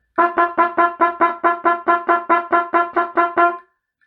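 A tenor trombone plays a steady quaver rhythm on G, about fourteen clear, evenly spaced detached notes of the same pitch, close up and unaccompanied, ending with a slightly longer final note.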